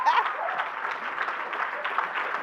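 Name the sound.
audience clapping hands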